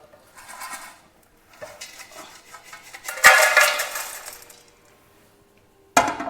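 Homemade Aagri Koli masala is flipped and tipped from a pan into a pot, with bursts of dry scraping and rustling, metallic clinks, and a sharp clank at the end, near and alone.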